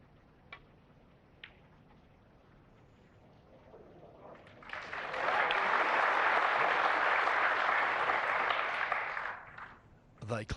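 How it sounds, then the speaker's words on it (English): Snooker audience at the Saudi Arabia Snooker Masters semi-final applauds in a warm, even burst of clapping lasting about five seconds, rising after a couple of faint ball clicks and fading out at the end. "They clap"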